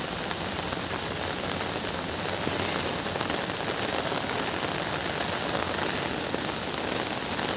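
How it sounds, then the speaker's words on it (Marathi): Heavy early-morning rain pouring steadily outdoors, a dense continuous hiss of drops hitting surfaces close to the microphone, with no talking. "पाऊस येत आहे दाखवते तुम्हाला किती पाऊस चालला आहे"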